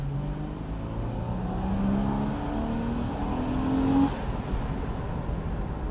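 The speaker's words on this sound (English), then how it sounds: "we're going to press that sports button to hear that beautiful tone of that flat six Boxster engine." A Porsche Boxster's flat-six engine in sport mode, running in third gear at around 5,000 RPM, revs with a rising, sustained growl. The note climbs steadily and stays loud and close, with no talk over it.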